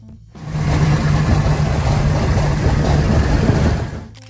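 A Chrysler 426 Hemi big block V8 engine revs loudly and steadily, its deep rumble holding close and strong for about four seconds before cutting off.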